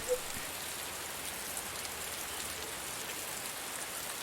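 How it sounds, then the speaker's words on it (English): Steady, even rainfall in the video game Heavy Rain, with a constant hiss of drops, moderately quiet and uninterrupted throughout. "it's raining. Of course it's raining."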